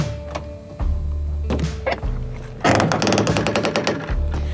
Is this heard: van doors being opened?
yes